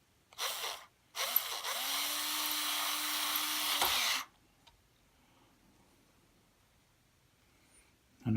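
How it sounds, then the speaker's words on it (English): A power screwdriver drives screws into a Squier Jaguar short scale bass, a short whirring burst followed by a longer steady high whine of about three seconds, close and clear, then quiet. "what are you doing with a power screwdriver?"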